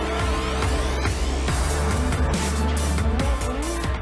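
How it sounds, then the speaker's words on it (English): Audi E-Tron electric SUV prototype on a test drive up the Pikes Peak hill climb road in Colorado, a steady, loud drive sound running continuously with rising and falling tones and some tire noise, no talking. "E Tron prototypes on test drive at Pikes Peak in Colorado, USA."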